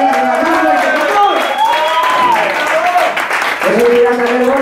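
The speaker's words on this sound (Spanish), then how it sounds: "Porque venga, ese aplauso fuerte." An audience at a masía event in Sant Boi bursts into loud, sustained applause with mixed crowd noise, and voices talk over it throughout.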